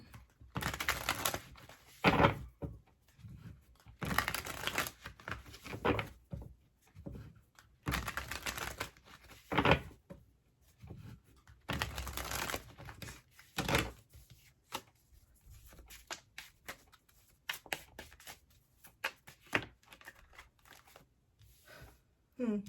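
A tarot deck, the Truth deck Soulmate Edition, is shuffled in repeated bursts of riffling and slapping cards, fairly close and moderately loud, separated by short pauses, with some quiet handling of the cards between bursts.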